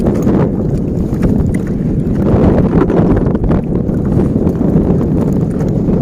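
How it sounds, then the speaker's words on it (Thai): Strong wind gusts over the water at low tide, with rain, roar steadily and loudly across the open microphone, a continuous close buffeting rumble with no talk. "อุ้ยลมแรงมาก"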